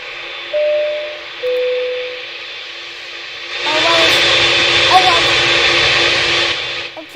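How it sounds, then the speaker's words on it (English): A Boeing 747-8I taxis with its jet engines running, a loud steady roar that swells partway through and stays heavy under cabin noise, with a couple of brief tones earlier. "The Boeing 747-8I. Yeah, those engines are pretty loud indeed."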